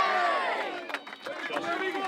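Hurling supporters of Bruree cheer and shout in a loud burst, a crowd roar with scattered voices and some clapping rising and falling over a couple of seconds.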